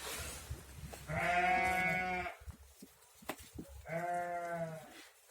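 Two drawn-out, quavering lamb bleats, close by, separated by a pause filled with small thumps and rustling.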